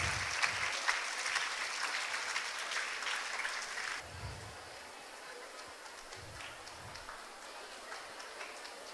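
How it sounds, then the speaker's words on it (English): A school audience at a girls' high school function claps for about four seconds, then the ovation thins to scattered faint claps over a quiet room with a few low thumps. "Please give a round of applause."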